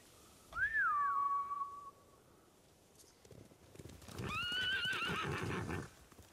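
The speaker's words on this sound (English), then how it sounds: "Bastards scared off the horses." Samurai horses in Ghost of Tsushima give two loud whinnying neighs, one early and a longer, more frantic one later, with rumbling hoofbeats and a clatter between them and no talk.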